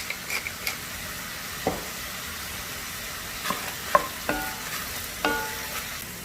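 Vegetables sautéing in a pan with kosher salt and cracked black pepper, a soft continuous sizzle broken by occasional sharp clinks and scrapes of a utensil against the pan, with no talk.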